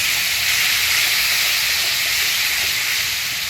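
Tomato paste hits a frying spice mix for a vegetarian chana paneer dish and sets off a loud, steady, close hissing sizzle that runs unbroken throughout.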